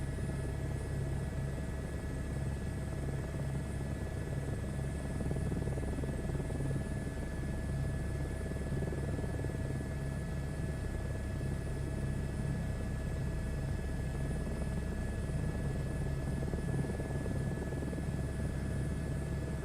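A helicopter in a VR flight game hums and rumbles steadily with a constant engine drone and a whine running throughout, loud and unbroken, with no talking.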